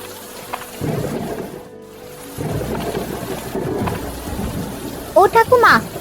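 Rain patters over rumbling thunder in an animated Bengali fairy-tale cartoon, the storm swelling and dipping in waves before a brief burst of tonal sound near the end.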